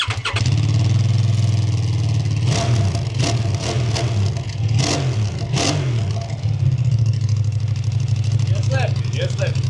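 A QJ Motor SRT900 SX motorcycle engine, still cold and fitted with a remapped ECU, idles with a loud, steady low drone and several short revving bursts in the middle, with faint voices in the background.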